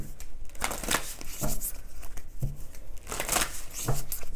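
Tarot cards being shuffled by hand, a run of crisp riffling, flicking bursts repeating every second or so, close and fairly loud with no voices.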